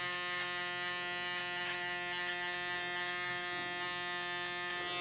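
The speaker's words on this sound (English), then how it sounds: "A little kiss with the shaver." A steady, close electric shaver buzz runs unbroken as it lightly trims hair during a tapered haircut, with no talking.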